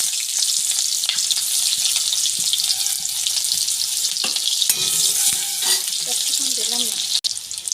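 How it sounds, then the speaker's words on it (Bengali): Onion sizzling in a pan of hot oil left from frying fish, a steady loud fry with occasional stirring and clinks, and a brief faint voice-like sound near the end. "কড়ার মধ্যে পেঁয়াজ দিয়ে দেবো"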